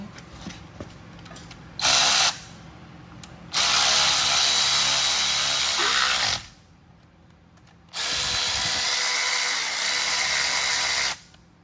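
A battery-powered ratchet whirs in three bursts, one brief and two longer, while tightening bolts on an LS engine build, loud and close with quiet gaps between runs.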